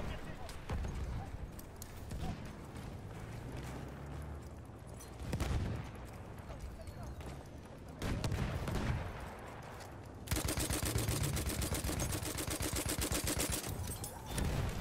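A gun fires in the video game Battlefield 1, emptying a whole magazine in bursts of rapid shots amid horse hooves and battle noise, heard under steady talking.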